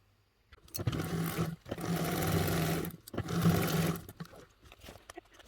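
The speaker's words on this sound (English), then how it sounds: "we're going to head to the sewing machine and we're going to sew along those lines with a 1/4 inch seam allowance" Sewing machine stitching a 1/4 inch seam along marked lines, running in three motorized bursts separated by short pauses, close and steady with a humming whir.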